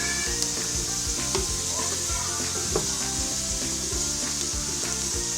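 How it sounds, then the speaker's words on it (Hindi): Green beans and potatoes fry in a pan, giving a continuous close sizzle with repeated scraping and clacking of a spatula against the pan at an uneven rhythm, no voices present. "दस मिनट हो चुके हैं मुझे इनको फ्राई करते हुए"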